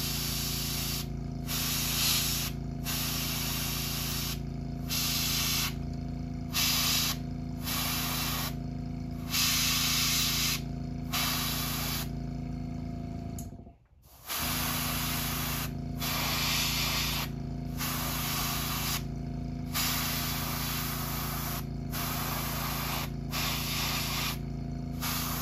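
An airbrush sprays paint onto a Red Devil crawfish lure with a loud continuous hiss, broken by short rhythmic pauses and one brief full stop midway before spraying resumes.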